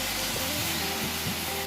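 Half a cup of milk hits hot cooked semolina and banana in a pan, sending up a loud, continuous steamy hiss and spray sound close by.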